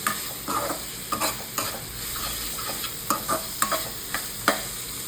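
Spice masala for sprouted moth bean bhaji sautéing in oil, a constant close sizzle punctuated by rhythmic scrapes and taps of a spoon stirring against the pan.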